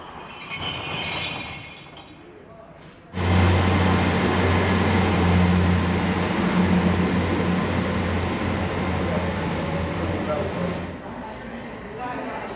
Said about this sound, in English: And here comes our train. I was hoping it was going to be an HST, to be honest with you, but we've got one of the IETs